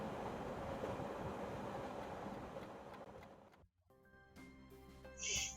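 Train ride in the Katawa Shoujo visual novel: a steady rumbling clatter of rail travel that runs for several seconds, cuts out abruptly, then gives way to soft music.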